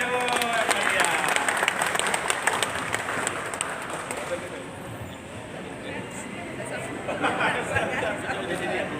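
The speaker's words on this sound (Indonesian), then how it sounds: "Ya tepuk tangan ayo." Audience at an anniversary ceremony clapping in a loose, uneven burst that gradually thins out, mixed with crowd chatter and voices talking over it.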